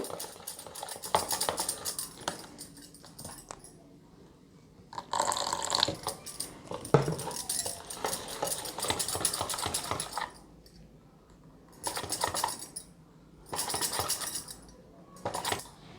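Thick gram flour bajji batter for mirchi bajji is mixed firmly in a bowl, giving close, irregular wet slapping and clicking bursts separated by short quiet pauses.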